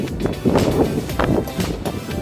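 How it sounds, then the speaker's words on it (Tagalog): Gusty wind buffets the microphone in heavy, uneven rumbling bursts, loud and close, with no clear voices, at a lake viewdeck near Pantabangan Dam in Nueva Ecija. "Ang lakas ng hangin."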